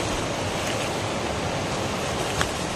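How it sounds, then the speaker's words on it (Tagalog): A river current flows steadily past, a dense, even rush of water close by and unbroken throughout, with no voices. "agos ng tubig."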